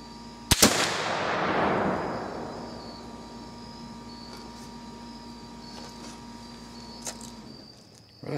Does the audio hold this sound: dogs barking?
no